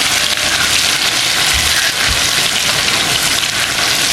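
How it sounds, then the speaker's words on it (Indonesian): Tofu and tempeh frying in hot oil, a steady loud hiss and crackle with a couple of low thumps, no voices. "Goreng tahu tempe"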